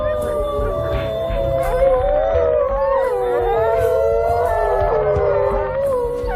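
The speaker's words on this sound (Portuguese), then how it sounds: "Os uivos os ajudam a se juntarem." A pack of wolves howls together in a wild documentary setting, several long wavering voices overlapping continuously and loudly throughout, with no speech.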